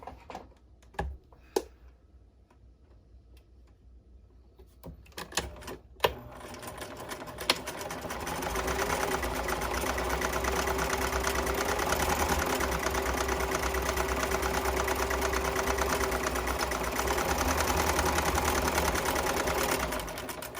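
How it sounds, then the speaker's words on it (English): A sewing machine backstitches at the end of a seam: a few sharp clicks and taps, then a loud, steady mechanical hum that runs close and unbroken to the end. "And I'm going to backstitch at the end."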